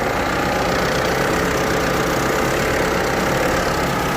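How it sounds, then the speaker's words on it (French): A car engine idles in a steady, unbroken low drone with an even mechanical chug, close and fairly loud, with no voices. "le moteur il retrouve son rythme normal"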